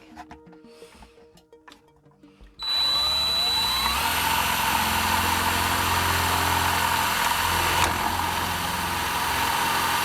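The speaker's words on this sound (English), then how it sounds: "drill a hole in it and try and line it up with the hole on the other side of the tank" Soft handling noises give way to a small power drill whirring loudly and steadily at close range for several seconds, drilling a hole in a Warhammer 40k model tank.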